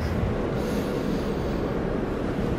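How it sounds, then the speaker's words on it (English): A Railjet train bound for Salzburg rumbles steadily nearby, a continuous low roar of rolling wagons with no pauses or talk. "Bye bye, Railjet nach Salzburg."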